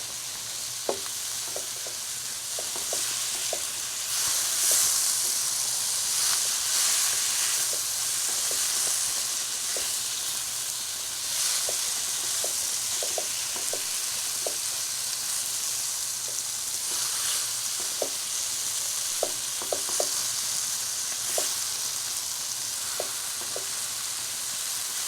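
Chicken sizzling and frying in a covered pan, a steady hiss with scattered small pops and crackles throughout, moderately quiet and unbroken by any voices.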